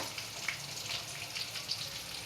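Chopped onion pieces fry in a pan for a cabbage fry, giving a soft, steady sizzle with a few light clinks of stirring throughout.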